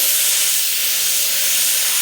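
Pure steam from a steam cleaner sprays with a loud, steady broadband hiss onto thick, oily coils, continuous and close throughout with no talking.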